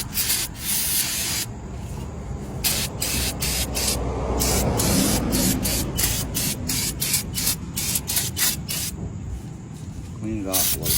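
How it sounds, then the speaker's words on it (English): Brake cleaner sprays in long hissing bursts onto a dusty caliper removed from a 2015 Toyota RAV4, loud and close, pausing between bursts, with someone talking now and then. "So we're just going to give her a quick spray."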